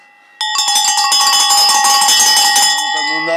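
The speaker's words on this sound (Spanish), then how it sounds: "No son campanas, son cencerros." Cowbells clang loudly and continuously after a sudden start, a dense metallic jangle of several bells ringing together close by, fading slightly at the end.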